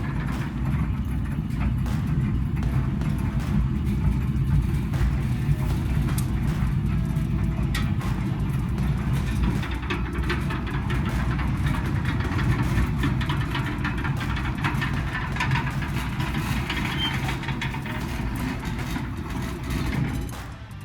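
A motorised garage gate driven by a Meross smart controller runs for about twenty seconds as a steady, close, low mechanical hum and rumble, with no speech over it.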